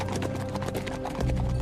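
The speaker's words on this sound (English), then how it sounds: "With Li Shimin, they broke out of the city and rode for the bridge" Hooves clip-clop in quick, steady rhythm as horses gallop across a bridge, loud and close, with a dense layered beat from several animals and a brief whinny-like tone, no talking.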